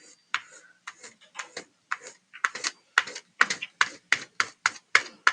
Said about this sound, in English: you're going to take the crayon and rub on its side